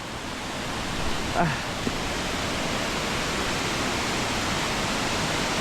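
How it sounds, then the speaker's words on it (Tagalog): Forest waterfalls roar in a constant, dense broadband rush. A brief voice-like sound is heard faintly beneath it. "Series of waterfalls."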